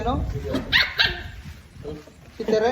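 Young Belgian puppies barking and yipping at close range, several short sharp barks with some whimpering in between, mixed with people talking nearby.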